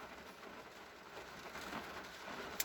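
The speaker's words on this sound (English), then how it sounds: "as soon as I arrive to work, it starts downpouring." A steady, faint downpour of rain hisses continuously with no break, heard from a distance with no voices.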